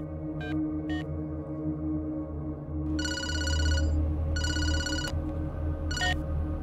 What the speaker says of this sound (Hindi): चल राजा को फोन कर।